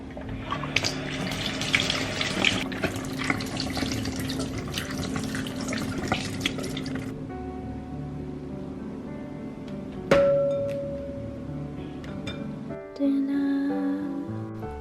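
Water runs from a tap while produce, including cucumber and red apples, is washed under it; a steady splashing stream for several seconds, then it stops, followed by brief clinks and a short spurt of water.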